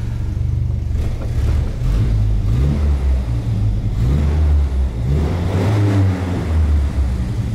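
A GAZ-24 Volga's engine runs close by with a slightly torn muffler, rumbling unevenly and revving up several times in rising and falling swells.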